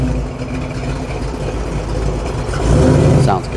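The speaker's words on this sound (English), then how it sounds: "GT350 Mustang. He's gonna park next to a 427 Cobra." A Ford GT350 Mustang rumbles at low idle while parking at a cars-and-coffee meet, a continuous close engine drone that swells briefly near the end.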